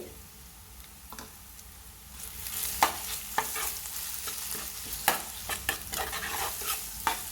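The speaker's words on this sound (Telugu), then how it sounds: "అల్లం వెల్లుల్లి పేస్ట్ బాగా వేగిందండి" Ginger garlic paste fries in a pan with a soft, steady sizzle, while a spoon stirs and scrapes, adding scattered sharp clicks that grow busier partway through.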